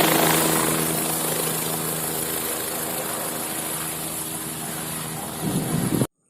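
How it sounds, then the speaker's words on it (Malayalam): A helicopter flies overhead near a hilltop bird-watching spot, its steady loud rotor and engine drone filling the air for about six seconds before cutting off abruptly. "ഒരു ഹെലികോപ്റ്റർ എത്തിയിരിക്കുകയാണ്."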